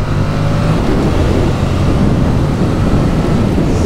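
A 2021 Yamaha MT-07 (A2) motorcycle downshifting, its engine a loud, close, continuous roar mixed with wind rush and no talk.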